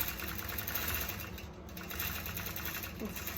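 A Gammill automated quilting machine stitches with white thread, giving a steady, continuous mechanical hum and rapid needle patter at close range, with no talking.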